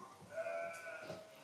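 A sheep gives a short, faint bleat during shearing, a thin wavering cry heard alone and at some distance.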